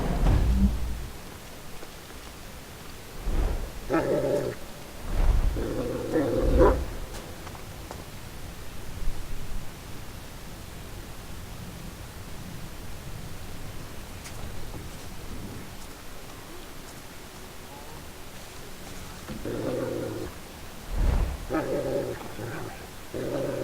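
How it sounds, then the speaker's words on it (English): Dogs bark in the video game Thief, in short bursts at several points amid a rainy ambient backdrop, moderately loud with quiet gaps between. "Ah, the dogs."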